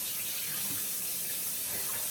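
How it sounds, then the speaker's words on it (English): Tap water runs steadily while a dusty hamster cage is rinsed without soap, a constant close hiss and splash with no breaks. "I'm just gonna put some water on the dusty parts here."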